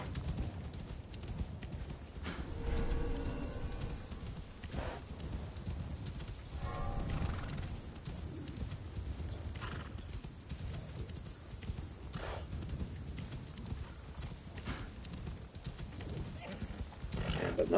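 Steady clip-clop of horses galloping in the video game Assassin's Creed Shadows runs throughout, with occasional whinnies rising over the rhythmic hoofbeats.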